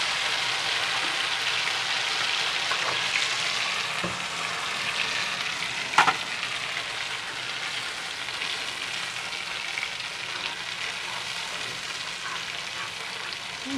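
Ground poppy seed, mustard and green chilli paste with a splash of water sizzling in a pan, a steady, even hiss with a couple of faint utensil clinks and no talking.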